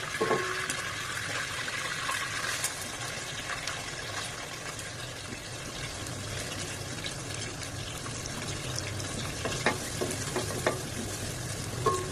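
Cumin seeds and curry leaves sizzle and crackle steadily in hot oil in a pan for okra pulusu, a close, continuous frying hiss with occasional sharper pops and stirring, no voices.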